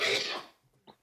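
A single sharp, loud cough bursts out close to the microphone, followed by a brief quiet breath and faint sounds.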